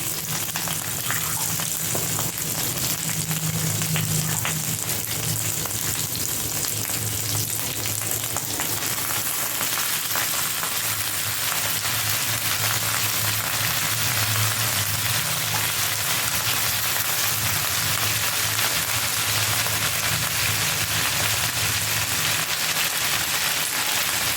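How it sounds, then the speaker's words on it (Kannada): Washed mint leaves fry in a pan for chutney, giving a steady, loud sizzle that holds unbroken for the whole stretch with faint stirring scrapes underneath. "ನೆಕ್ಸ್ಟ್ ಪುದೀನ ತೊಳೆದಿಟ್ಕೊಂಡಿರೋದನ್ನು ಇದ್ರ ಜೊತೆಗೆ ಹಾಕೋತಾ ಇದ್ದೀನಿ."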